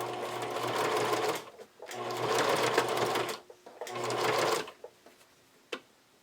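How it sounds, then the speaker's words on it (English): A sewing machine stitches through several stacked fabric layers of cut-and-sew bra padding, running in three steady bursts of about a second and a half each, close and loud, with short pauses and a few clicks between. "So I've got all my layers here ready to go through the sewing machine"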